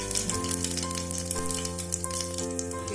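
Half a spoon of white cumin seeds crackles and splutters in hot oil left from frying potatoes, a close, steady sizzle with dense little pops over a constant background hum.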